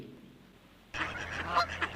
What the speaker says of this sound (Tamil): குவா குவா வாத்து கத்தும் குட்டையில்